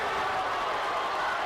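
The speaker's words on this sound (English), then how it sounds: "This crowd going nuts." Dense, steady roar of a crowd at a high school wrestling dual meet between Mounds View and Simley, cheering loudly after a pin, a continuous wash of voices with no single sound standing out.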